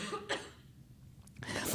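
A person coughs in a few sharp, harsh bursts during a convention talk, close to the microphone, with short quiet gaps between them.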